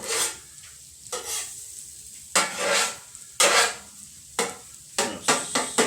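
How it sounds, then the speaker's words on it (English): Eggs for breakfast burritos sizzle in a frying pan while a utensil scrapes and stirs them in repeated bursts, close and clear, with no talking. "Those should stay nicely sizzled in here."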